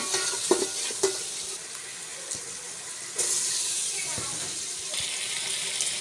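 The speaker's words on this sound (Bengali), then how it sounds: "চাউলগুলো তেলের ভিতরে ভালোভাবে ভেজে নিতে হবে।" Rice grains frying and being stirred in oil in a home kitchen, a steady sizzling hiss with a few sharp scraping clicks and a louder surge midway, no talking.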